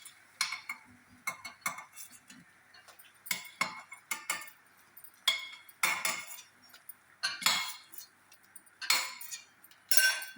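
Crispy fried potato pieces are stirred and scooped in a pan for Delhi-style aloo chaat, giving a series of sharp, close metallic scrapes and crunchy rattles in irregular bursts with quiet gaps between.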